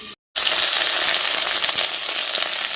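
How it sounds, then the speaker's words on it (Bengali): Bori, small lentil dumplings, fry in a pan with a steady, close, dense sizzle that starts suddenly after a brief moment of silence and continues without talk. "বড়িগুলো ভেজে নিচ্ছি ফার্স্টে"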